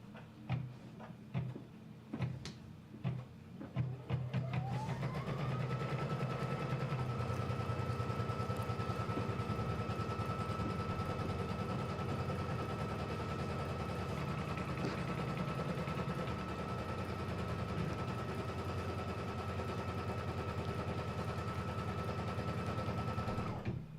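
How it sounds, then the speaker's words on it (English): An embroidery sewing machine stitches a rectangular placement outline for batting onto stabilizer, a few uneven start-up clicks giving way to a steady, loud, continuous mechanical whir that holds evenly for about twenty seconds, with no talking. "The first step that's going to stitch out is the placement outline for my batting. Okay, it's just going to stitch a rectangle"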